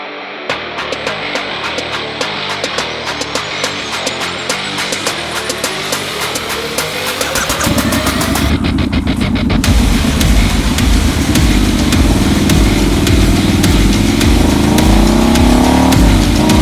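A Ford Bronco drives with its top down and back window open, its engine droning steadily as it builds speed, with wind and road rush rising and the engine note climbing higher partway through.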